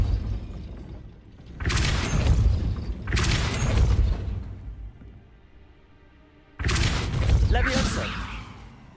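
Casting Depulso in Hogwarts Legacy sets off three heavy rumbling booms as a gate grinds upward, each burst loud and sustained for over a second, separated by quieter pauses with faint background tone.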